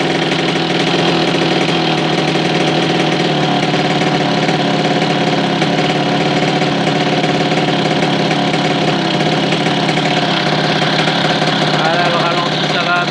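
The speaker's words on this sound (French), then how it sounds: "Voilà, le ralenti ça va à peu près, hein. Je le fais au son en général." An MBK 51 moped with a hybrid stage 6 racing setup idles steadily and loudly up close, a continuous buzzing engine note with a slight knock, while someone talks over it.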